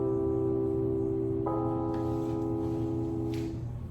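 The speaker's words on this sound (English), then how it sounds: "And the final chord I'll be looking at is called the augmented chord." An augmented chord rings as a sustained, steady harmonic tone with a fresh attack partway through, then fades near the end. It is played alone with no talking.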